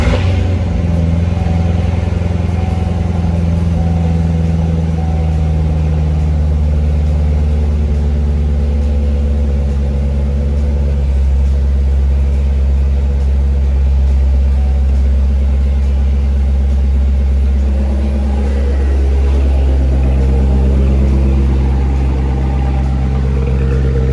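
A 2015 Corvette Z06 convertible with a 7-speed manual and tri-mode exhaust fires up and settles into a loud, deep, steady idle that rumbles close by throughout.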